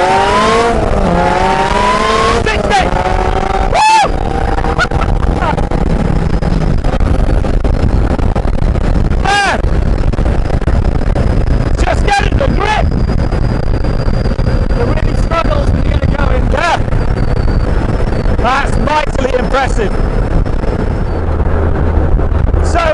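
Supercharged Ariel Atom car launching hard from a standstill, its engine note rising through the gears as it pulls away, loud and close amid steady wind buffeting, with brief pauses at gear changes.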